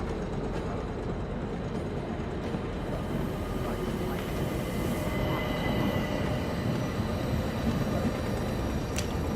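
Aboard the Orient Express in a 2023 Agatha Christie video game, a train rumbles steadily with rolling rail clatter, sustained and fairly loud throughout, with a sharp brief squeal near the end.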